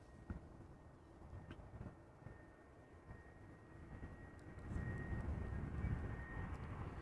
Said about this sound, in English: E2 Embraer 195 arriving from Geneva.